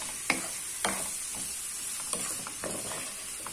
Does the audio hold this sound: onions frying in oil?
yes